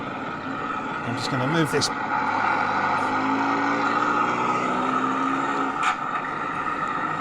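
A 1/6 scale Armortek Series 1 Land Rover model engine idles with a steady, moderately loud hum, while a person talks over it and handles the model.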